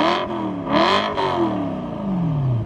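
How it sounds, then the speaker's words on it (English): A BMW M3 revs its exhaust nearby, rising and falling in loud bursts, ending with a long descending engine note. "exhaust clip for you guys"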